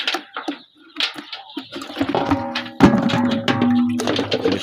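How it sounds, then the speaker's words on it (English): Hot water splashes and pours into a poultry drinker on a farm, a brief run of watery sloshing and trickling that swells louder and steadier toward the end, with no voices. "So I take the drinker, sprinkle some hot water in it"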